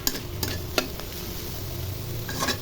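A carrot and spring onion stalk fry with coriander leaves is stirred in a pan. Several sharp scraping strokes sound close up over a continuous low sizzle.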